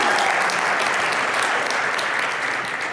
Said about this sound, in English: Round of applause for Angular and the whole team.